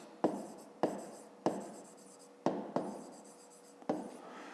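Marker or chalk strokes on a board, about seven distinct scratchy writing strokes at uneven intervals, each starting with a sharp onset and trailing off, close and alone.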